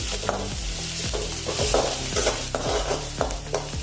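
Green onion leaves sauté in a hot pan with a steady sizzle, while a spatula scrapes and stirs in a regular rhythm of knocks, loud and close.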